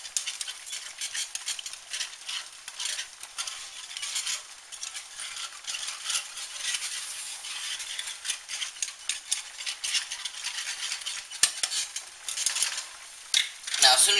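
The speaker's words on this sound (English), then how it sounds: "you're going to bring this up to a simmer" Garlic Alfredo sauce for a shrimp bake simmers in a pan, giving a steady high-pitched crackle and bubbling with light stirring scrapes, close and fairly quiet and continuous, with no talking.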